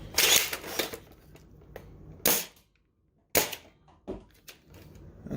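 A Double Mega Caliburn foam dart blaster fires several shots, each a sharp loud snap followed by quiet gaps, with a couple of softer clicks of handling in between.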